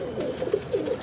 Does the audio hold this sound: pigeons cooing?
yes